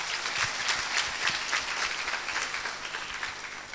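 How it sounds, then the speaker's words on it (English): An audience at a university alumni gathering gives a sustained round of applause, a dense wash of clapping that stays fairly loud and even from start to finish. "Another round of applause, please."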